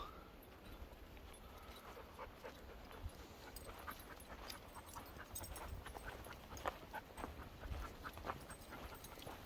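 Dogs on a beach panting and whimpering in quick excited bursts, fairly close, over a steady background wash of surf and wind, with no talking.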